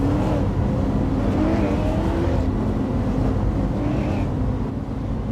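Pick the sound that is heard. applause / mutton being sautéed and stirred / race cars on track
race cars on track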